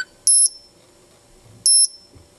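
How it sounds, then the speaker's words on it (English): A receiver gives two short, bright electronic beeps about a second and a half apart while a remote is being paired, each tone clean and piercing against near silence. "2 beeps. The red light will go off and now the blue light will flash."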